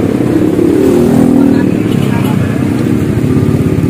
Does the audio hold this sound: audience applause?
no